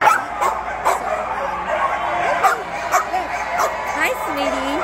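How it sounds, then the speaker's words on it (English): Excited border collies yip, whimper and bark in short bursts at a horse and dog event, with people talking warmly over the dog sounds throughout. "So it's got to be border collies in this one"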